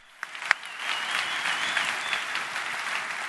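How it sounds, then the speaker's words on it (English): An audience at a Bitcoin event applauds a senator: a couple of sharp claps, then a steady wash of clapping from a crowd at moderate distance that carries to the end. "Let's give her a round of applause"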